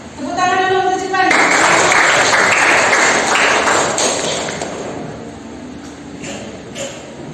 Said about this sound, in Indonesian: Tepuk tangan dulu untuk Jepang.